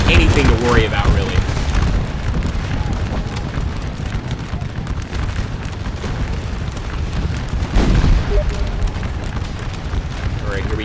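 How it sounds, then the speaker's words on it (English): Napoleonic cannons in Scourge of War Waterloo fire on French artillery, producing a dense, rumbling stream of booms and crackling battle noise, while someone talks throughout over the gunfire. "The cannons are firing off at that French artillery on the right side."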